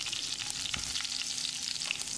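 Dried red chillies, curry leaves and mustard seeds sizzle steadily in hot oil in a frying pan, a dense close crackle with a few sharper pops and no voices.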